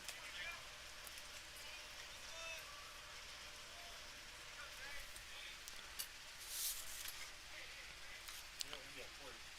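Steady rain falls over an outdoor baseball game, a constant broadband hiss with scattered faint drop ticks, heard from a distance and fairly quiet throughout.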